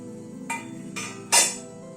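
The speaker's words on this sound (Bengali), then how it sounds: "এবার ঢাকনাটা খুলছি, গ্যাসের ফ্লেমটাকে কমিয়ে দিলাম।" A metal cooking pot lid is lifted off a pot of steamed rohu fish on a gas stove, giving three sharp clinks, the last one loudest, over a low steady hum.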